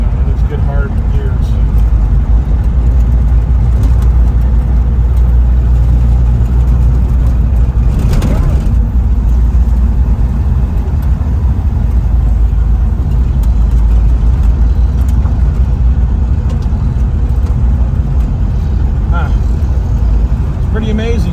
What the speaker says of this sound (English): Pretty amazing for as crappy as this thing runs. Doing just fine going down the road.